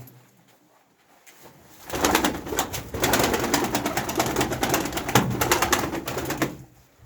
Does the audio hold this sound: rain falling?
no